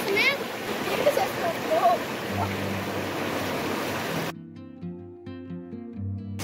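Fast-flowing stream water rushing steadily on a hiking trail where walkers must cross to the other side, a broad continuous wash with splashes, later giving way to music.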